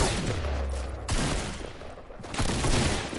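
Gunfire crackles in a Fortnite match in loud, broad bursts, with sharp volleys of shots about a second apart over constant background game noise.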